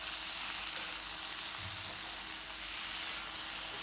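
Flat beans frying in a pan with sesame paste and chili paste, giving a steady, close sizzle throughout with a faint stir or two.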